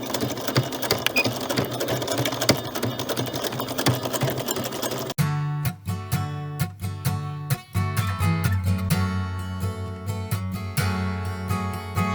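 Sewing machine stitching a tote bag while adding a zipper and straps, fast rhythmic mechanical chattering in short bursts with brief stops between runs, close and clear.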